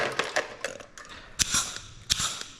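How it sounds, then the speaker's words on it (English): A pneumatic Cleco gun works on an RV-10 aircraft elevator, giving a quick series of sharp mechanical clicks and air-driven snaps, a few louder bursts among lighter ticks, close up. "pneumatic Cleco gun working."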